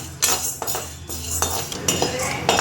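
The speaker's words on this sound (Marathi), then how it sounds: "हे बघा डाळ टाकते मी आता. डाळ पण चांगली भाजून घेते मस्त" Dal is tipped into a pan and dry-roasted for chakli bhajani, with a loud clatter of grains and spoon against the metal pan followed by repeated scraping strokes.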